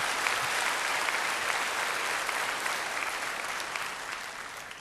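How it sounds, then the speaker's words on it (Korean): Sustained applause from a large church congregation, a dense even wash of clapping that stays loud throughout. "하나님께 영광 박수 드리겠습니다."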